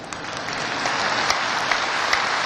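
A crowd claps steadily in a large hall during a religious address, a continuous, even applause lasting a few seconds at moderate distance.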